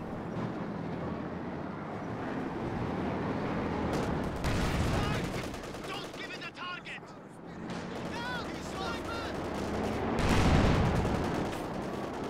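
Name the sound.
Werfer rocket artillery barrage in Company of Heroes 2 video game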